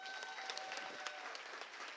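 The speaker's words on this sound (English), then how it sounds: "Give them a round of applause." Conference audience applauding after a keynote talk, a quiet, distant, even patter of clapping with a few sharper claps standing out, no voices.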